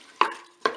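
Shrimp and carrots stirred in a Cookeo pot, two sharp close scrapes of a utensil against the bowl with a light sizzle between them.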